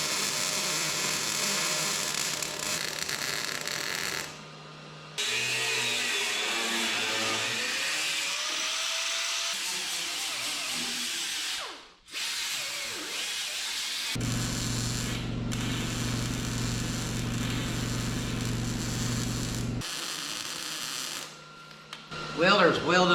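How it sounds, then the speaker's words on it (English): A Miller-Matic MIG welder lays beads on a Yerfdog go-kart frame in a garage, giving a steady crackling buzz in long bursts with short pauses between welds, heard close up over an underlying hum. "Welder's welding like hell."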